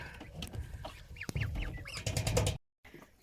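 Domestic ducks quacking and chattering together at close range on a farm, a busy overlapping flock with rustling movement, ending abruptly.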